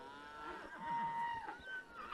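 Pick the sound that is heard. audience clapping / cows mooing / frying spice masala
cows mooing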